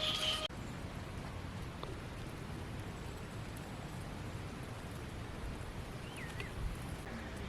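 Ripe palm fruit fritters sizzle in hot oil, a soft, steady crackling hiss that runs evenly throughout after a brief louder start, quiet and close.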